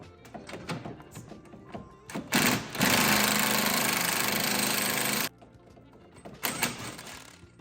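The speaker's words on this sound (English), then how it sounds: "Now I've oiled up my brushless impact, and it just happened to grow in size." A brushless impact wrench on a Foxbody Mustang steering coupler job, a loud continuous rattling hammer for about two and a half seconds, with shorter clicks and bursts before and after, close by.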